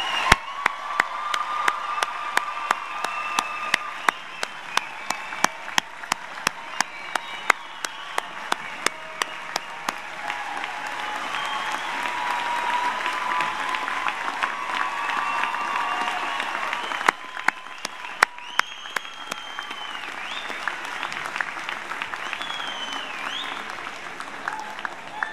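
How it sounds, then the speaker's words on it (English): Sustained audience applause at a Moraine Valley Community College graduation ceremony in May 2018, a steady wash of many hands clapping with a few sharper individual claps standing out, continuing for a long stretch. "please join me in giving our graduates, our amazing graduates, one more round of applause"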